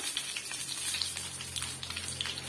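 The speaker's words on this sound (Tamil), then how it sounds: "நல்லா மசாலா ஒட்டி மீன் நல்லா வெந்து வருங்க" Masala-coated fish frying on a hot tawa, street-stall style over a medium flame, a close, steady crackling sizzle with small pops throughout.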